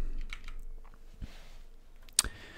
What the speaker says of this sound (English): I have a new keyboard and I don't know how to type with this new keyboard.